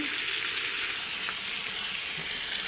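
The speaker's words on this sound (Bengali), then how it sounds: "এই যে আমি মাছটা ভেজে নিচ্ছি।" Rohu fish frying in oil in a pan, a dense, constant, loud sizzle without pauses, heard up close.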